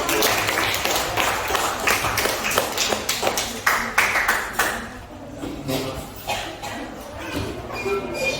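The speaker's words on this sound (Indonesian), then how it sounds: "tepuk tangan dulu" Classroom group applause: a dense patter of many hands clapping together, loud at first and thinning toward the end, with some murmuring voices beneath.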